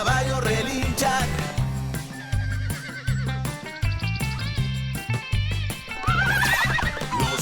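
A horse neighs several times in a loud, shrill whinny with clip-clopping hooves, mixed into a bright, busy backing of music throughout.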